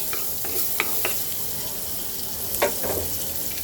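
Potatoes frying in a pan with onion and green chilies: a soft, steady sizzle with scattered light clinks and stirring scrapes, close and moderately quiet, with no talking.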